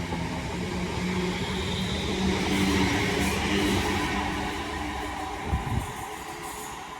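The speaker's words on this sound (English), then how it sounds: "leaving now the 10:26 London North Western Railway service from London Euston to Birmingham New Street" A London Northwestern Railway passenger train, unit 5243 leading, pulls out of London Euston on its way to Birmingham New Street. A steady, fairly loud rumble swells and then eases, with a brief clatter near the end.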